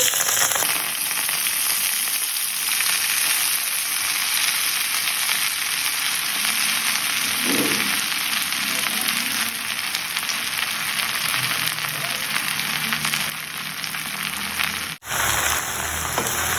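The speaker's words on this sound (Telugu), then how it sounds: "ఈ ఆయిల్ వేడెక్కిపోయిందండి ఇందులో ఇప్పుడు నేను గోంగూర యాడ్ చేస్తున్నాను" Gongura leaves frying in hot oil for a long-keeping gongura pickle, a loud, steady, close crackling sizzle that runs on without a break, with faint stirring and no talk.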